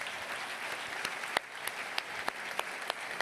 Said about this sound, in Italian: Davvero un applauso a tutti i partecipanti.